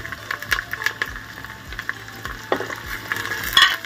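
Carrots and cabbage sautéing in a pan for vegetable Maggi, a soft sizzle broken by frequent irregular scrapes and taps of a spoon stirring, close with no talking.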